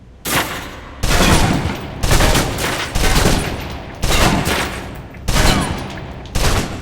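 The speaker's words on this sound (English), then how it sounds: "Now, let's move on to the submachine gun. Now let's empty the clip." Submachine gun in the video game Alpha Protocol emptying a full magazine: loud, close bursts of automatic fire in about six separate volleys with short pauses between them, no talking.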